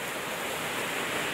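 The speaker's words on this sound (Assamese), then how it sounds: "ৱাটাৰফল সেইটো চাক আছে ৱাটাৰফল" A waterfall beside a road near a village on India's border gives off a steady, dense rushing roar of falling water, loud and unbroken.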